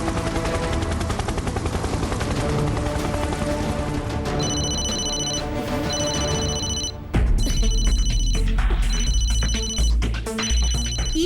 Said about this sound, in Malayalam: ഈ ഫോണിലേക്ക് ആരോ കോൾ ചെയ്യുന്നുണ്ട്